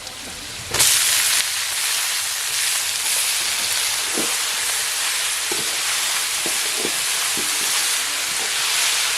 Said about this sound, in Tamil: எல்லாமே நல்லா பொரிஞ்சிருச்சு இப்போ வந்து நம்ம கீரையை சேர்த்துக்கலாம்